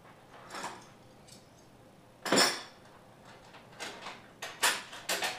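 Metal knife stirring and clinking against a container of water sample treated with pH reagent, a few short scattered clinks and scrapes, fairly close and moderately loud, with quiet gaps between.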